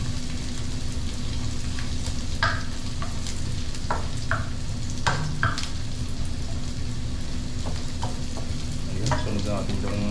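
Onions sizzle steadily in a hot frying pan while a utensil scrapes and stirs them in short, irregular strokes over a constant low crackle.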